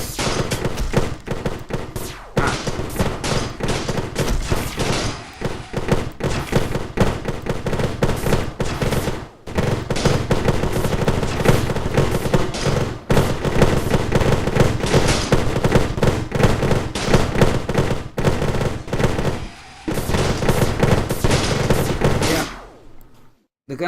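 Dense, relentless automatic gunfire from deployed gun turrets in the game Planet Explorers, loud and continuous with rapid bursts and brief gaps over about twenty seconds, heavy and crackling throughout.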